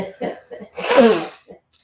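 One loud, breathy sneeze bursts out after a couple of short vocal sounds, close to the listener, then a faint sniff follows.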